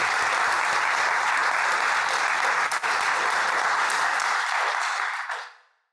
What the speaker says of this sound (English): I would like to join me in giving Josh a round of applause